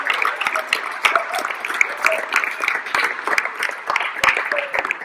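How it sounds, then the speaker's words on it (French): A modest crowd claps at a local associations' award gathering, scattered sharp claps forming steady, moderately loud applause that continues for several seconds with a few faint voices beneath. "Et bien je crois qu'on peut applaudir."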